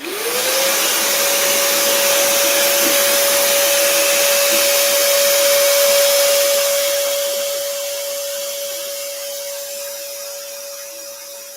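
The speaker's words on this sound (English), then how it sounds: "going to turn on the vacuum. It's going to be very loud." A loud vacuum cleaner whirs up to a steady, high whine and roars continuously up close, easing slightly in volume toward the end.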